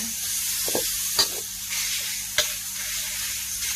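Glass noodles with minced pork stir-fried in a pan: a steady close sizzle with scraping stirs and a couple of sharp utensil taps against the pan.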